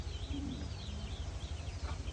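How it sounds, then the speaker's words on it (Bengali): Pigeons locked in their coops coo softly and flutter nearby, low murmuring calls repeating over a steady background hum. "এখন কবুতরগুলো লক আছে এই যে সবগুলো কবুতর খোপে আটকা"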